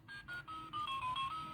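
Alarm tone from a silver talking wristwatch with metal strap: a close electronic melody of quick stepped beeps, pulsing in short bursts that grow slightly louder toward the end, with nobody speaking.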